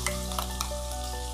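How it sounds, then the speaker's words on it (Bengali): Spice paste for Goan fish curry frying in hot oil, a dense, loud, continuous sizzle with a few faint stirring clicks close by. "সাথে সাথে আমি দিয়ে দিচ্ছি সেই পেস্ট করে রাখা মশলাটা"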